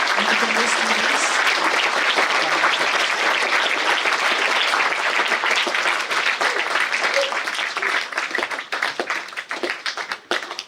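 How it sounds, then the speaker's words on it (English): Sustained, loud applause from an audience at a St. George's Day celebration and annual prize distribution ceremony, honoring medical students, dense clapping that thins and becomes more scattered toward the end. "I request everyone to kindly applaud for the medical students."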